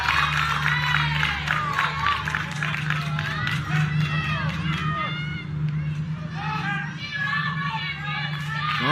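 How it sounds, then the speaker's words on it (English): Spectators at a Little League baseball game cheer, shout and chatter, with children's voices prominent, and a commentator talks over the lively, continuous crowd noise. "You can hear the crowd behind us."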